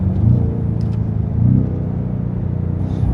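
Steady engine rumble of a heavy BMW M5 sedan cruising through the Black Forest, the pitch rising and falling as it accelerates through corners, loud and continuous from the cabin.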